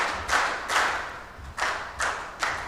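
Sparse claps from a conference audience at an East African civil society summit as a guest from the African Union is welcomed, a few separate bursts of hand claps with soft thuds in a hall, no speech.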